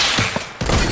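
Bursts of gunfire in a sniper shoot-out video game, with a short volley followed by a denser run of shots near the end, loud and close, with no talk.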